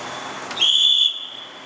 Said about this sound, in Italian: e a colpi di fischietto l'ha invitata a parcheggiare sulla destra.